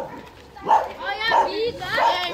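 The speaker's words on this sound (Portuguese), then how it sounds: "aquele cachorro que tá seguindo a gente?" A dog following people outdoors gives three short, fairly close barks spaced evenly over a couple of seconds, with people talking over and between them.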